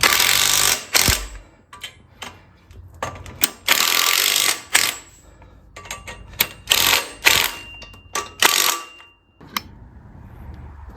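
A ratchet clicks in quick bursts while tightening a bolt on a seized 5.7 Hemi engine, with short rapid strokes separated by brief pauses.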